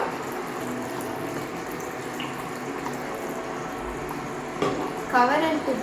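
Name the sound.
water being added to chicken gravy in a pan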